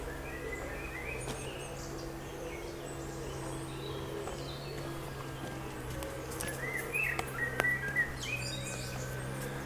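Birds chirping and tweeting outdoors over a low steady background hum, scattered calls, moderately faint with no talking.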